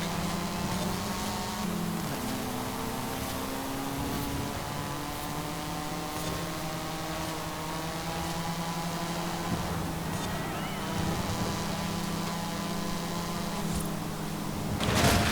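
Turbocharged Mazda car with a Wankel rotary engine in Forza Horizon 5, during a seasonal championship race. It gives a steady, loud engine drone with shifting harmonic tones and brief gear-change dips, and there is faint background noise throughout.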